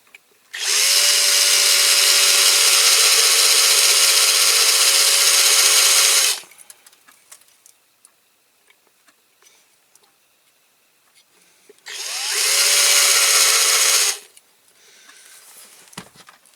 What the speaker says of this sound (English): I'm going to have to drill this rivet out here